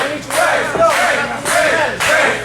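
Wrestling arena crowd roaring for Ray at an AEW Let Freedom Ring show, a loud sustained wall of cheers and chanting that swells in repeated surges.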